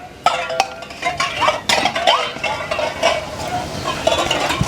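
Dishes and metal utensils being scrubbed and washed, with repeated clinks and clatters of pots and cutlery at close range over running scrubbing noise.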